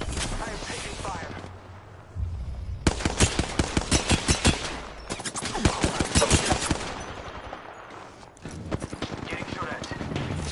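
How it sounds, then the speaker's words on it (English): Rapid automatic gunfire in the battle royale game Apex Legends, several loud close bursts of evenly spaced shots separated by quieter stretches, with a voice talking over part of it. "I am taking fire."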